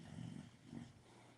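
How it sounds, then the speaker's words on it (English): A dog snores nearby in two low, rumbling breaths with a slight stutter, fairly faint against a steady background hum. "There goes my dog snoring again."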